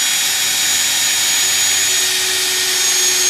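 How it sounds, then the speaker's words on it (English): An electric drill with a 1/8-inch bit runs steadily at high speed boring holes, with a constant whirring whine, close and loud, with no pauses. "I can take a drill motor with a 1/8 drill bit and drill"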